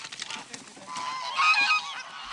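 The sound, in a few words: geese honking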